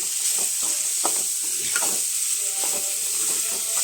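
Ambrekai palya, a vegetable stir-fry, sizzles steadily in a pan with a constant hiss of frying, broken by soft scraping clicks of stirring up close.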